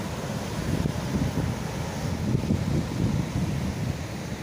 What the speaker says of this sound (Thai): ลมพัดแรงครับลื่นลมแรง